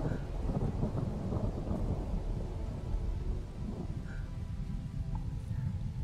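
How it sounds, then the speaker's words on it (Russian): Thunder rolls and rumbles continuously through a storm in the space-colony building game PlanetBase, a steady dense low roar with rain-like texture after a lightning strike near the base. "Прям сюда удар был. Молнией."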